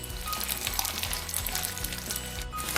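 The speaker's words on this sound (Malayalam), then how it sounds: "നെയ്ക്കകത്തോട്ടാണ് ഞാൻ ചക്കക്കുരു പൊടിച്ചതിടുന്നത്." Ground jackfruit seeds fry in ghee for a payasam, giving a steady close sizzle and crackle throughout, with faint stirring and no voices.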